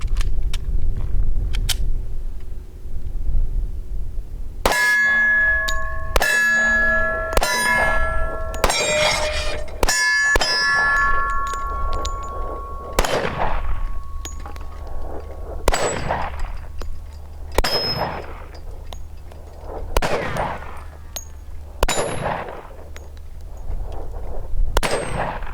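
A 10mm Smith & Wesson M&P 2.0 pistol fires hand-loaded 180-grain PRVI jacketed hollow points: sharp, loud reports in quick bursts early on, then spaced single shots with ringing metallic clangs and echoes, no talking.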